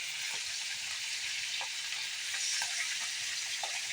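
Fish frying in a pan, tails needing turning before they burn, produces a continuous bright sizzle with a few soft clicks of turning or stirring.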